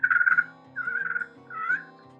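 Three soft, drawn-out rolling turkey purrs from a friction call scratched with a wooden pencil, close and fairly quiet, each note fluttering slightly.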